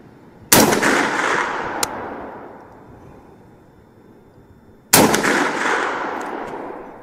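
Two loud, close rifle shots from a Bear Creek Arsenal .458 SOCOM at an outdoor range, several seconds apart, each with a sharp crack and a long rolling echo that fades slowly.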